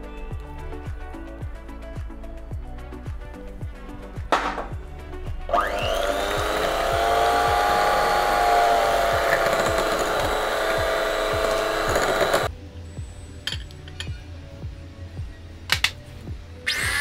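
An electric hand mixer beats butter, sugar and eggs for a Christmas cake, starting with tapping and scraping before a loud, steady whirring drone that runs for about seven seconds, then stops and leaves light clatter.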